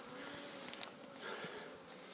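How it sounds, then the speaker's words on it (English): Honeybees flying around a hive entrance on a sunny day, a faint soft buzzing hum with individual bees passing close by. "it's a lovely sunny day, maybe around 12 degrees Celsius, and the bees are flying"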